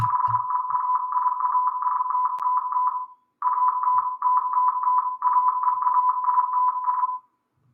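A steady electronic tone from a Python Morse code translator on a computer, keyed into rapid short and long beeps, running in bursts with a brief pause partway through.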